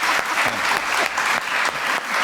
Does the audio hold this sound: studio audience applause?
yes